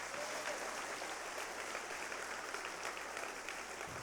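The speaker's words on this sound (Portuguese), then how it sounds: "Você pode aplaudir o Senhor por isso?" Steady applause from a church congregation fills the whole stretch, a dense even patter of clapping with no pauses.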